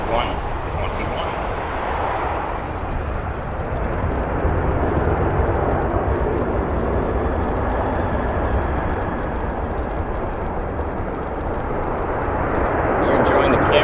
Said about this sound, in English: Our next arriving aircraft, United 7378 in their new EVO